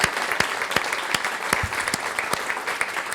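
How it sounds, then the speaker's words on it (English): An audience applauds after a speaker's introduction at a talk, a lively, close burst of many hands clapping with sharp individual claps standing out, continuous and with no one speaking. "That has to be the most applauded bio I've ever heard, y'all."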